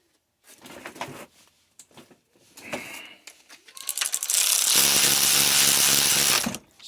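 A ratchet spins and clicks while tightening bell housing bolts on a 1972 Mercury Comet's C4 transmission, starting with a few short separate bursts and ending in a loud, continuous rapid ratcheting run lasting about two seconds, close up.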